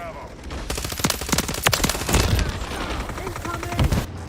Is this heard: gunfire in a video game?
yes